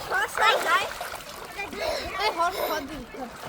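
Children splashing in water, with short bursts of splatter mixed into steady voices calling out, close and lively throughout.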